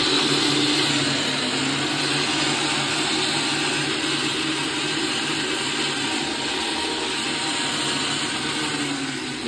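A mixer grinder runs steadily while blending watermelon juice in its jar, a loud continuous motor whir with no pauses or talk.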